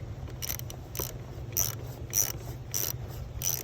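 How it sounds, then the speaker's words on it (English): A ratchet wrench tightens a car battery terminal, giving a steady series of quick, close ratcheting clicks in short strokes over a low background hum. "So now we are tightening this terminal."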